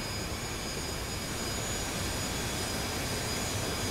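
An F-4C jet engine in the DCS flight simulator roars as a steady broadband rush while spooling toward idle during a cold start on the ground, loud and continuous with no talking.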